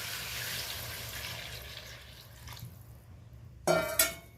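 Hot water is poured into a pot of curry, a continuous splashing pour that fades over a few seconds, followed by two sharp clanks of a vessel near the end.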